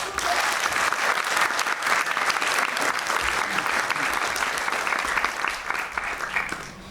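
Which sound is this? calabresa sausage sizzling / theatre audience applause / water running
theatre audience applause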